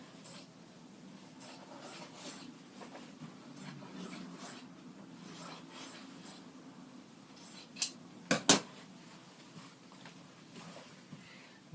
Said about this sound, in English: I'm going to trim off my excess lining because I don't need all that